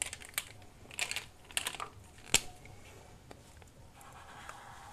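Alphabet letters being written by hand for a children's lesson: quiet, close scratchy strokes and light taps arriving in short irregular bursts, with one sharper tap midway and a soft faint rustle near the end, no voices.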